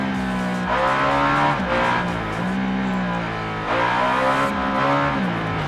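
Ducati Diavel motorcycle engine in the racing video game Ride 3, revving loudly and continuously with rising and falling pitch as it shifts through gears, close and alone without talk.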